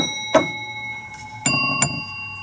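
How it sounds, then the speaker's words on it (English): Bells at an elevator museum ring out in three distinct strikes, one early and two close together later, each with a bright metallic ring that decays over a quiet room hum. "We got a couple bells."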